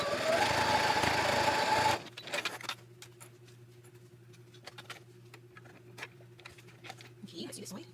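A sewing machine stitches fabric in a steady, dense whir for about two seconds, then stops, leaving a low hum and scattered faint clicks and handling taps.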